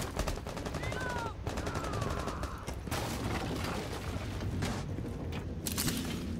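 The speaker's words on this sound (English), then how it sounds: "Are they shooting out a garage?" Gunfire in a Rainbow Six Siege match on the Kanal map, rapid automatic bursts and scattered shots crackling continuously in the middle distance, with faint voices under the game noise.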